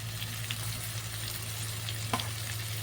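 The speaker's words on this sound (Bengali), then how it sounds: "টমেটোটা নাড়িয়ে নিলাম, আর এরপর দিয়ে দিচ্ছি নারকোল কুড়িয়ে রেখেছিলাম আগে থেকে, নারকোল কোড়া" Tomato and grated coconut fry in a pan with a steady soft sizzle, a few light scrapes and taps of stirring breaking through near the end.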